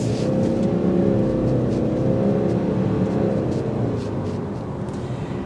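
A 2024 Subaru Ascent Touring SUV pulls away on a test drive, its engine note rising in a steady smooth drone with road and wind noise, loud and close inside the cabin.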